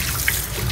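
Warm tap water runs steadily and close by over ingredients being washed for sinigang sa miso, a brief continuous splash with no talking.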